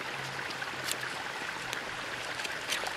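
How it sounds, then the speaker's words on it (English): Water bubbling and churning steadily in a hole heated with hot rocks for primitive egg boiling, a continuous close hiss and gurgle with faint pops, no voices. "it's boiling pretty regular now"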